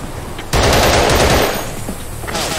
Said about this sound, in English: Enemy fire concentrated on our area.